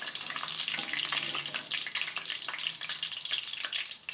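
Fish coated in masala and egg frying in a pan, a steady close sizzle and crackle with faint scraping throughout, no voices.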